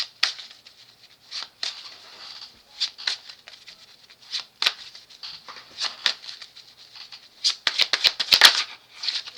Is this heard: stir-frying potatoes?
no